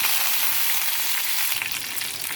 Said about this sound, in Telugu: ముందుగా కరివేపాకు కూడా వేసుకుంటాను.